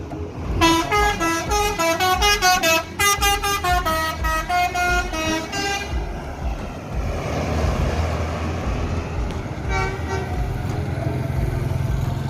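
Loud bus horns blare in a rapid, stuttering run of musical toots at Terminal Bare Solok as the bus pulls out, then give way to the steady rumble of the engine and a last short burst of honking.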